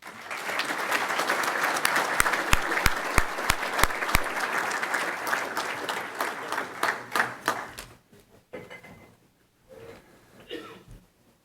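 A crowd at a 2011 student awards ceremony applauds loudly and steadily, the clapping thinning out and fading into scattered claps and quiet near the end.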